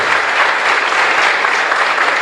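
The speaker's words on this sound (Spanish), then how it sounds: "Fuerte aplauso para todas las madres." A church congregation at Mass in a chapel in Ñemby gives sustained, dense applause for mothers. The clapping is loud and steady throughout, with no talking over it.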